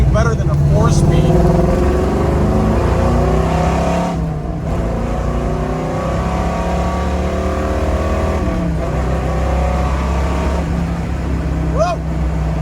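A 1971 Chevrolet Nova muscle car with a 4-speed manual pulls hard, its engine revving loudly and rising in pitch through the gears, with brief dips at the shifts, heard close from on board under some talk.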